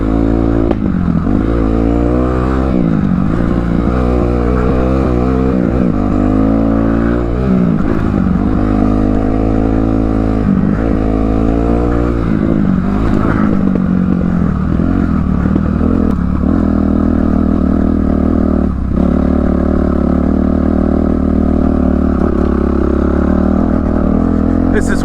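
A dirt bike ridden by a heavy rider labours up a steep, hard hill, its engine droning and revving in waves with clattering and scraping over rough ground, loud and close throughout.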